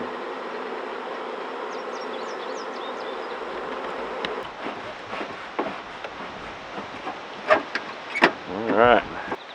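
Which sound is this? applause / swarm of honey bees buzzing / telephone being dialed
swarm of honey bees buzzing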